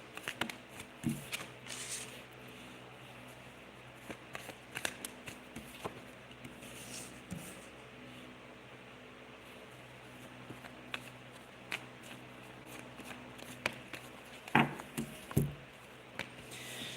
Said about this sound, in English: I'm going to start pulling your cards, Christina.